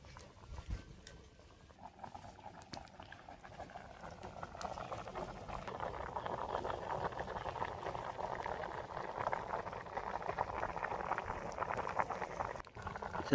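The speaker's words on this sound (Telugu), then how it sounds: "మనం పప్పు పెట్టి ఉడికించుకుందాం." Lentils (dal) for Andhra-style pappu pulusu bubble steadily in a pot, a continuous soft boiling patter that builds after the first few seconds and holds at an even moderate level, with no talk.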